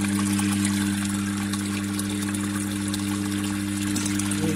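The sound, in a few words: water pumped out of homemade borehole well and poured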